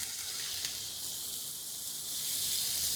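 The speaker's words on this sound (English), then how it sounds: "And then I'll flip my steak" Steak sizzling in a very hot pan just after being flipped, a steady close hiss that swells slightly toward the end, with no talk.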